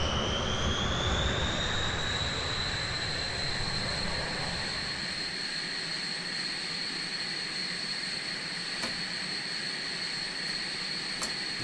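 T-38 Talon jet engine idling in a flight simulator: a constant high whine over a broad rushing roar, steady and unbroken, with faint clicks near the end and no voices.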